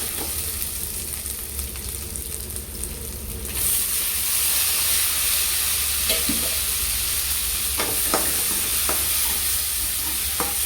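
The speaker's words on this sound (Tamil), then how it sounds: "இப்போ இது கொஞ்சம் நல்லா வதங்குற வரைக்கும் நல்லா கிண்டுவோம்" Ginger garlic paste and onions sautéing in a pan for a prawn and bottle gourd curry: steady frying sizzle that grows louder partway through, with occasional scrapes and knocks of stirring, close and without talk.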